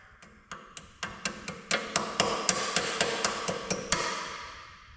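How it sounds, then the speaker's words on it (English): A red plier hammer strikes metal on an Allis-Chalmers 185 tractor spindle, about fifteen sharp, ringing taps at a fast, fairly even pace that grow louder midway, close by and with no talk. "I guess we'll use the red plier hammer."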